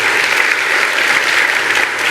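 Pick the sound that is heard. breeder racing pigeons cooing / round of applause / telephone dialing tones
round of applause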